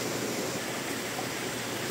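Water runs steadily into a container, a continuous broad rushing hiss without breaks, fairly close and moderately loud.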